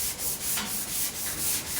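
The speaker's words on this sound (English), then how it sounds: "It is a little bit soothing when you're sanding" Steady rhythmic scraping of a sanding block with abrasive paper over a Porsche 356 car body, back-and-forth strokes repeating at an even pace, close and continuous with no talking.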